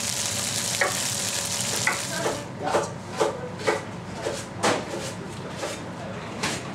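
Garlic fries separately in a pan with a loud, constant sizzle, while a utensil stirs and taps against the pan in a fairly regular rhythm of repeated strokes.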